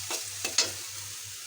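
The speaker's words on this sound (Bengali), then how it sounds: "এইভাবে আমি কষাই নিই আমার মশলাটা কষান হয়ে গেছে" Spice paste frying in oil for a pabda fish and green banana curry, a steady soft sizzle with a few sharp scraping strokes of a spatula near the start, close and fairly quiet.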